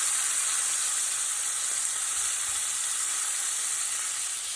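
Skirt steak sears in butter in a hot pan, giving a steady, close sizzling hiss that holds evenly throughout with no talk.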